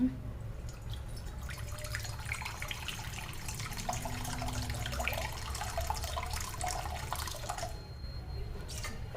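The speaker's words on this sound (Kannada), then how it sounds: "ಸ್ವಲ್ಪ ನೀರು ಹಾಕೋಣ." Water poured into a pan set on the stove to steam beetroot, carrot and amla, a steady faint trickle and splash with a low background hum, no talking.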